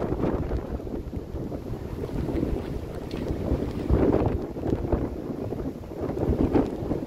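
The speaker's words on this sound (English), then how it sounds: "It is very windy." Strong wind buffets the microphone in a continuous low roar, gusting louder at moments, with a faint rushing, water-like hiss beneath.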